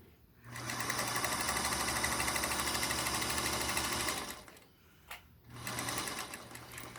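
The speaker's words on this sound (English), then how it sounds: "I'm just going to sew down this slightly scant." A sewing machine stitching quilt fabric for half-square triangles runs in a steady, loud whir for about four seconds, pauses briefly, then starts stitching again, with no talk.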